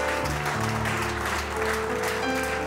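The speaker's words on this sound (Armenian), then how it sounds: "Խնդրում եմ եկեք ընկերոջս մի հատ բարձր ծափարենք" Concert audience applauding at a live Armenian music concert, a dense wash of clapping sustained throughout, with sustained musical tones and chatter mixed in beneath it.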